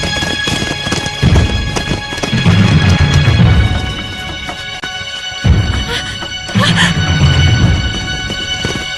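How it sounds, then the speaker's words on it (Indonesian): A runaway horse galloping out of control, rapid hoofbeats in repeated bursts amid loud, busy background noise and voices. "Sepertinya kuda ini tidak dapat dikendalikan."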